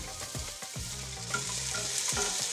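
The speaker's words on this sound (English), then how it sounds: "Traditionally, you start with your curry leaves, and then we're going to put our onions and garlic in" Onions and garlic fry with curry leaves in hot oil for a Sri Lankan prawn curry: a steady, close sizzling hiss with scattered crackles and light stirring scrapes, no voices.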